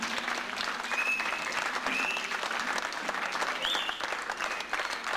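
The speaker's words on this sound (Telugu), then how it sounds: "మీ అందరి యొక్క చప్పట్లు వారు ఇంకొకసారి" Sustained audience applause from a seated crowd at a Telugu stage event, steady dense clapping running the full length with a few whistles rising above it.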